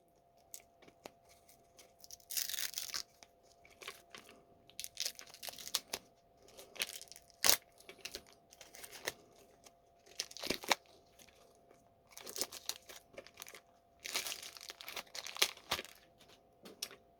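Plastic crinkles and rips in short bursts as a taped plastic bag from a 1970s New Zealand survival kit is torn open, tape tearing loose in several sharp pulls between quieter rustling pauses.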